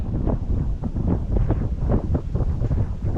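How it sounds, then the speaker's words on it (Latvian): Strong wind buffets the microphone on open water during a fishing trip, a loud, continuous roar with gusty surges throughout. "Bet nu vējš ir baigais."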